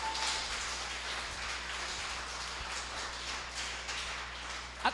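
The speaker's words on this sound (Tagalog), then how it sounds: "Laksan-laksan nyo na po yung inyong palakpak" A prayer meeting congregation claps together in a dense, sustained round of applause, like a steady rain of hand claps that fills the room from start to finish.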